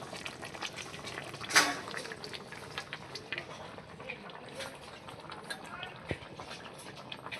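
A pot of fish curry simmering on a village cooking fire, with a soft, steady bubbling and faint sizzle, one brief louder clatter near the start; quiet throughout.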